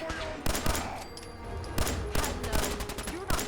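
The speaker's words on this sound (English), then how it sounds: "the bang of my pistol as I use it" Pistol gunshots in the video game Fallout 4, fired without a suppressor: several sharp loud bangs at irregular intervals, with background game noise and a brief tone between the shots.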